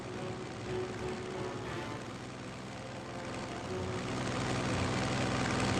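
Propeller aircraft engine drone in the war strategy video game Strategic Mind: Spectre of Communism: a steady, continuous hum that swells slightly louder toward the end, with no voices.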